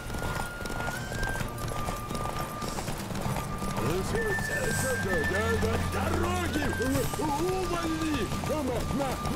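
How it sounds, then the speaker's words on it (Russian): Horse hooves gallop in the video game The Witcher 3: Wild Hunt, a steady rapid clip-clop running throughout beneath game music, with voice-like calls layered over it. "Лошадка."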